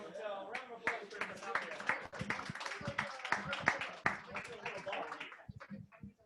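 Audience hand clapping after a children's show and tell presentation, sharp irregular claps from a small group mixed with chatter and voices, fading out near the end.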